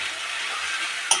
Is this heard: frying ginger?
yes